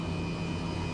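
Steady, continuous turbine drone of an H135 helicopter engine idling on a runway in Microsoft Flight Simulator, a loud unbroken whine and rumble with no talk over it.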